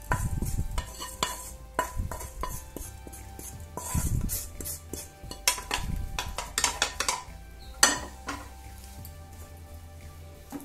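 Unniyappam batter being mixed with fried sesame seeds and grated coconut, heard as a steady run of close, wet stirring and scraping strokes against a bowl, with occasional utensil clinks and no talking.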